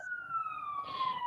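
A siren wails steadily with a slowly falling pitch, loud and fairly close, while faint low background noise continues underneath.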